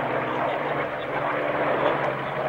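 A Messerschmitt ME-109 fighter at the Duxford Flying Legends Airshow in 1997 drones steadily overhead, a continuous loud engine roar with no break.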